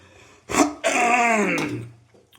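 A sharp burst followed by a drawn-out, strained throaty sound, like a hoarse cough close to the microphone.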